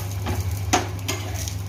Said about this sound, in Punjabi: ਇੱਧਰ ਟਿੱਕੀ ਬਣਦੀ ਪਈ ਆ